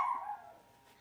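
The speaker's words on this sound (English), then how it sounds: "I don't know what she's barking at." Indoors, a dog's bark is already sounding at the start and fades within half a second into quiet room tone, close and fairly loud.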